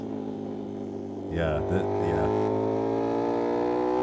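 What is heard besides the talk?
motorcycle exhaust revving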